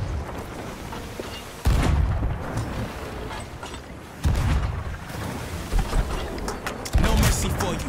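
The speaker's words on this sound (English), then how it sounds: "I'm gonna start shooting some shots." Gunshots in the pirate video game Sea of Thieves, with three heavy booming blasts spaced a few seconds apart over a dense, continuous game background.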